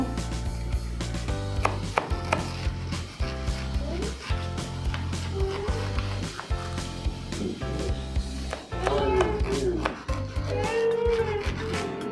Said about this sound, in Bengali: এখন আমি কেটে এগুলোকে সাইজ করে নেব